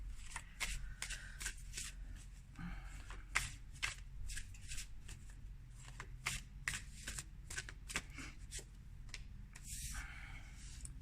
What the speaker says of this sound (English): Let's pull a Spirit of the Animals Oracle card by Jody Bergsma.